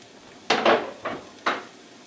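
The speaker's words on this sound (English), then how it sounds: "So I'm going to put the chorizo in now." Pre-cooked chorizo goes into a pan with chicken and onions, giving three or four short, clattering knocks and scrapes against the pan, close and fairly quiet.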